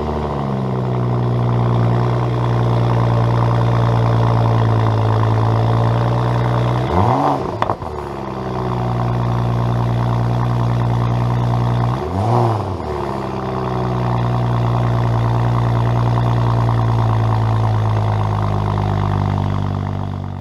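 A BMW 535i F10 with its mufflers deleted idles with a deep, steady exhaust drone, broken by two sharp throttle blips that rise and fall quickly, heard close and loud with no talking.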